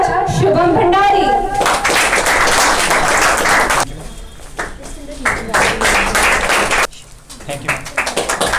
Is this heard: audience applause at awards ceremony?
yes